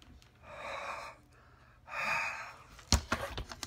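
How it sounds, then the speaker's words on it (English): Two long, forceful breaths blown onto a rubber stamp while making a card, each a broad airy rush, followed by a sharp thump and a few lighter knocks. "what I've got to do now before I stamp is breathe on it hard."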